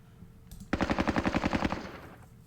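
Machine gun fire in the Squad Battles Winter War game, a single sharp burst of about a dozen rapid, evenly spaced shots lasting roughly a second and fading into a short echo.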